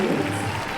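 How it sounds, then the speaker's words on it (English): Crowd applauding at a Longines Global Champions Tour show jumping event in Estoril, Cascais, a steady, dense wash of clapping sustained throughout a brief moment. "the crowd are delighted"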